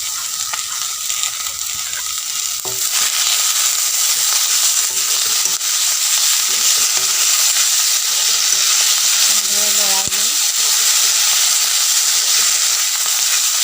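Waterleaf is stirred into fish curry frying in a pan, a loud, close, continuous sizzle broken by scraping strokes and occasional clanks of the spoon against the pan.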